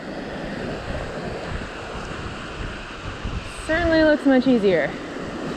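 River rapids on the French River rush steadily nearby, a broad continuous roar of flowing water, with a voice briefly talking over it near the end.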